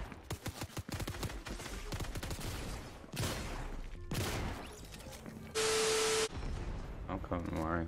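Rapid bursts of gunfire from the video game Fortnite crackle in dense volleys with louder isolated shots and a sharp electronic tone, while players talk over the action.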